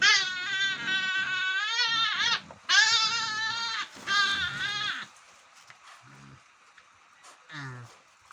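Nutrias fighting over a feeder let out loud, wailing, bleat-like cries in three close bursts, followed by fainter squeaks and scuffles.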